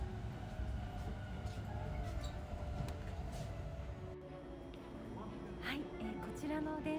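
Interior rumble of a Japanese local rail line train while riding toward Banshu-Ako, a steady low rolling drone with faint rattles and brief higher squeals, fairly quiet throughout.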